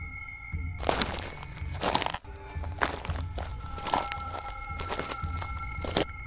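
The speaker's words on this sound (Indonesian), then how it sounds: "Tiba-tiba, dengan jelas mereka mendengar langkah kaki mendekati perangkap itu." Footsteps crunching steadily toward a trap at night, each step a crisp crackling scrunch at a walking rhythm, moderately close, with a faint steady hum behind them and no talk.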